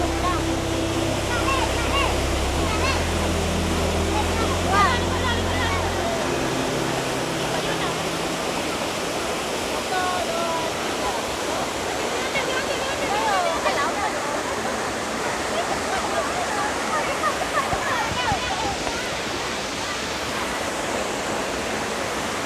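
Water tumbles over the mini waterfall at Krueng Kaleung, Sabet, Lamno, Aceh Jaya, in a continuous broadband rush. For the first few seconds a low hum sits under the roar.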